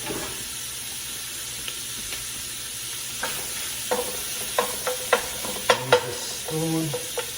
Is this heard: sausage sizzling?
yes